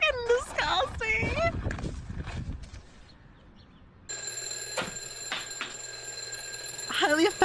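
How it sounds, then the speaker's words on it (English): An alarm clock bursts into loud, steady, bell-like ringing partway through and keeps sounding to the end, following earlier chatter and laughter, with voices returning over the ringing. "Highly effective alarm clock?"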